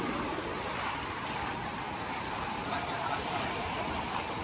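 Floodwater from an overflowing river spreading across farm fields after a violent storm, a continuous broad roar of rushing water with wind buffeting the microphone.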